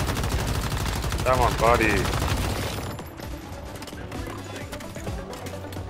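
Rapid bursts of gunfire from shooting enemies in the survival shooter Once Human, loud and dense for several seconds, then continuing more sparsely with a voice talking over the shots.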